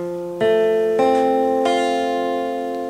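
A single guitar chord from a beginner African guitar lesson rings out, struck three times in a row, each strum bright and sustained, ringing close and clear with nothing else heard.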